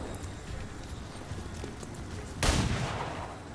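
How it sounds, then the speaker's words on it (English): A sniper rifle shot at an armored turret in XCOM 2 rings out as a single sharp, loud crack partway through, then decays over the quiet game ambience. "Hey, good shot."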